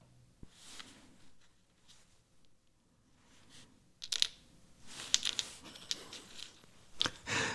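Small magnets snap together while model door hinges are built on a workbench, giving a few sharp, close clicks and taps that are scattered over an otherwise quiet stretch.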